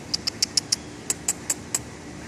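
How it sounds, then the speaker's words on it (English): A squirrel makes a string of nine short, squeaky quacking calls that sound like Donald Duck, arriving in a quick run of five followed by four slightly spaced ones, fairly close and clear over quiet background. "it's actually a squirrel that's making that noise that sounds like Donald Duck."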